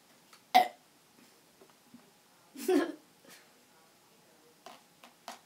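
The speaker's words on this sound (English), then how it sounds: "That was my burp." A short, low burp rises briefly out of quiet background, followed a little later by a second, longer belch-like sound.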